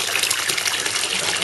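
Water gushes continuously through a model waterfall into a small pond, a bright, close, splashing pour that stays loud and steady throughout.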